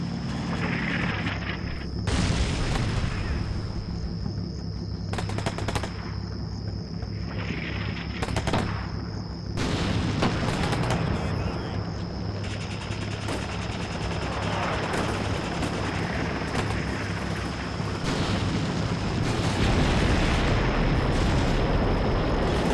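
Airstrike ordnance explosions and gunfire in a military exercise, repeated heavy booms and rumbling blasts with bursts of rapid fire, loud and sustained, layered with a constant high tone.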